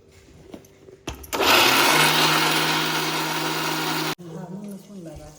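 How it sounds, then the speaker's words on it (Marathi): A kitchen mixer grinder whirs loudly for about three seconds, grinding a sweet mixture fine, then stops abruptly; quieter sounds and a voice come before and after. "आता आपण हे मिश्रण सगळं मिक्सरमधून बारीक करून घेऊ"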